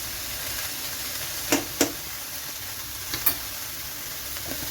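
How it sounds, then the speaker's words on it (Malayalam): Chopped spinach for a Kerala cheera thoran stirred in a hot pan, a soft continuous sizzle broken by a few sharp spoon knocks and scrapes against the pan, with no one talking. "ഇനി നമുക്ക് നന്നായിട്ട് എല്ലാം ഒന്ന് ഇളക്കി ഒന്ന് യോജിപ്പിക്കാം"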